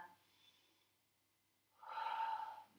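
During a yoga session, one deep, slow breath is heard close up, a soft airy exhale after a quiet pause, with no talking.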